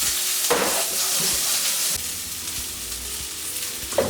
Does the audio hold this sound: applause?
no